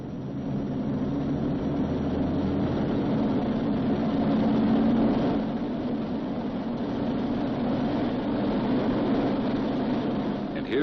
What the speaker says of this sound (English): He releases the parking brake and adjusts the engines for full military power